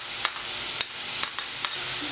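Onion and green chillies sautéing in ginger-garlic paste for chicken unnakkaya, a bright hiss of frying broken by four or five sharp spoon taps and scrapes against the pan, near and without speech.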